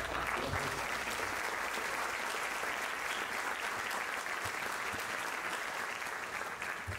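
An audience at a lecture on Krishna breaks into sustained applause, a dense, even wash of many hands clapping throughout, fairly faint and heard from within the hall.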